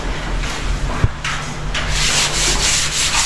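Sandpaper worked by hand over putty on a surface being prepared for Davis primer and paint, giving close, continuous scratchy rubbing strokes in a rough back-and-forth rhythm, with one brief knock partway through.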